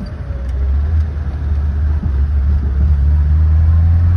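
A classic BMW 1802 accelerates hard on the road, its engine a loud, steady low rumble heard from close by and continuing without a break.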